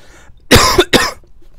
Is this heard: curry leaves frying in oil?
no